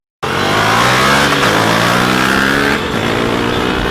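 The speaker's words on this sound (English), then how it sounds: "the new exhaust sound of the Duke 250 is absolutely fantastic" A KTM Duke 250 motorcycle's exhaust roars loudly and close, revving up and holding a strong, rising engine note before easing off slightly.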